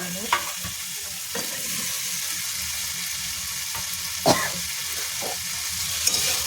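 Potatoes and paneer stir-fry in a hot pan with a steady sizzle, broken by a few sharp scraping stirs of the spatula, close up with no talk.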